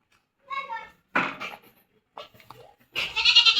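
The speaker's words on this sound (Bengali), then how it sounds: "এটা খাসি, এটাও খাসি" A castrated male goat bleats nearby, a short call at first and then a louder, longer bleat, with scattered knocks and brief noises in between.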